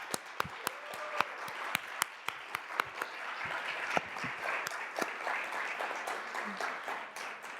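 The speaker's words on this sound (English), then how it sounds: "Will you join me in one more round of applause for all of tonight's winners?" A crowd at an evening awards ceremony applauds the night's winners, a dense patter of clapping that swells and holds steady. Several sharp, close individual claps cut through at the start, with faint chatter underneath.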